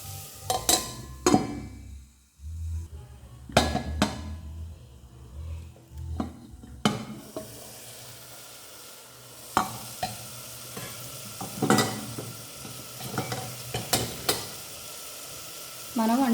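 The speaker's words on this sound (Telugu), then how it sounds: "ఇవి కూడా మనం కొంచెంసేపు అనేది మగ్గించుకుందామండి టమాటా ముక్కల్ని." Tomato pieces cooking in a pan for mushroom biryani, with steady sizzling under repeated close scraping stirs and clinks of a spoon against the pan throughout.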